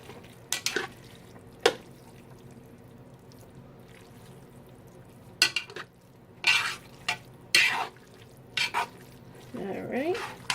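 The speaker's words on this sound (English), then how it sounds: "just mix that into the spaghetti" Spaghetti being stirred and tossed together with a pasta sauce of beef and chorizo: intermittent wet, squelching mixing sounds and utensil scrapes in short bursts, separated by quiet pauses.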